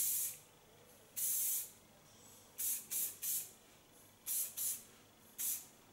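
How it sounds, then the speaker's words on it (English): Short hissing bursts from an aerosol can of soft Lanza hairspray, about eight quick sprays in irregular pairs and singles, close and fairly loud against a quiet room. "A soft hairspray of Lanza"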